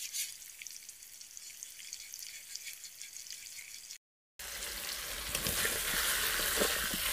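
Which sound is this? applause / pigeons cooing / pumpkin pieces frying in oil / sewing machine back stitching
pumpkin pieces frying in oil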